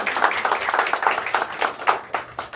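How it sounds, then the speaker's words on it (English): Audience applause at a ribbon-cutting ceremony for a foundation's gift shop in Weslaco, a steady patter of many hands clapping with irregular peaks, moderately loud and close, with no speech over it. "Let's give them a round of applause."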